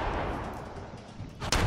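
A single heavy shot from Kellogg's gun in Fallout 4 booms near the end, after a low stretch of game ambience.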